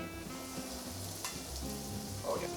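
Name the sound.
chicken frying in canola oil in a pan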